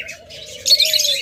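A breeding pair of cockatiels chirps nearby in a bird-shop setting: a short series of bright, close tweets that grows louder and busier halfway through, with no voices.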